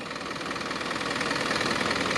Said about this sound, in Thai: FC 9J เครื่องยนต์ฮีโน่ J05E 210แรงม้านะครับ